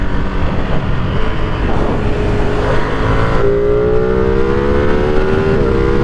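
A 2023 Ducati Streetfighter V2 motorcycle engine accelerating while ridden, its steady loud drone climbing in pitch through the gears with a rising whine toward the end, close and continuous with no talk.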